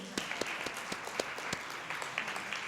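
A small group claps, sparse individual hand claps over a soft, steady patter of applause, fairly quiet and brief.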